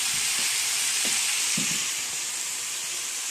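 Chicken coated in spices cooking in a pan in a tiny home kitchen: a steady, even sizzle with a few soft scrapes of stirring early on, close and continuous with no voices.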